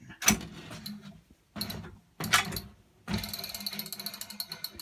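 A Honda UM2460 lawnmower's blade brake clicking on and off in a repair shop, several separate mechanical clacks and ratcheting bursts with short silent gaps, close and clear, with no voices.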